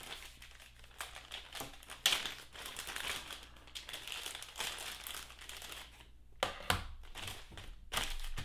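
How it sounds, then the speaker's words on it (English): A plastic sheet is laid down on a VPI 16.5 record cleaning machine, giving close, quiet crinkling and crumpling rustles in irregular bursts, with a few sharper crackles and brief pauses between handling sounds. "let me put a piece of plastic down in case this is dirty"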